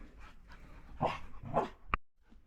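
Puppies in a Melbourne backyard garden give a few faint, close yips and whimpers, with a short sharp bark near the end, over quiet outdoor background.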